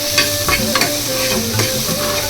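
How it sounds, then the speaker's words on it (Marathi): Spices tempered in hot oil for a dill-greens vegetable dish crackle in a loud, steady sizzle, broken by a few sharp pops and stirring scrapes, close and continuous with no talk. "हळूच आत हात घालायचा आणि फोडणी द्यायची."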